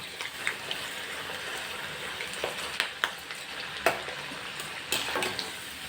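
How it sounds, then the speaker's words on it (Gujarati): Potatoes fry in oil over a medium flame, a continuous soft sizzle with occasional sharp clicks as a spoon stirs them in the pan. "આપણે મીડિયમ ફ્લેમ ઉપર એને ફ્રાય કરશું"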